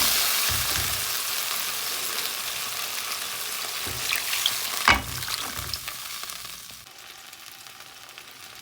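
Vegetable stalks and fish curry frying in a pan: a loud, dense sizzle with occasional stirring scrapes and a sharp clink midway, easing off and quieter toward the end, with no voices.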